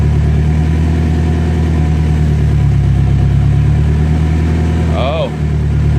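A turbocharged BMW E30 with an M42 engine and single-mass flywheel runs during a first-gear clutch test, a steady low engine drone near the microphone with a brief rising squeal toward the end.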